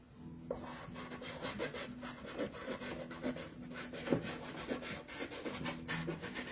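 Pastel chalk stroked across Canson Mi-Teintes paper while drawing a starry night sky, a soft continuous scratchy rubbing with repeated strokes that rise and fall in pressure, close and fairly quiet, with no talking.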